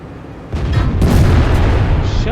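A tank cannon fires a single heavy, booming shot in World of Tanks, with the player driving a WZ-111. A loud broadband blast is followed by a sustained rumbling roar over steady battle noise.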